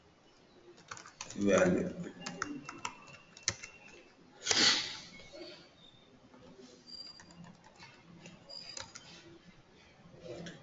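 Computer keyboard typing clicks away in quick irregular bursts, close to the microphone, mixed with a few louder knocks and a brief spoken word.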